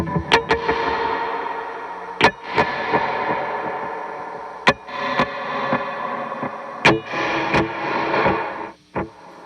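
An electric guitar plays through a delay pedal set to dotted-eighth repeats, with sharp plucked notes trailing into layered echoing repeats and a washy sustained tail.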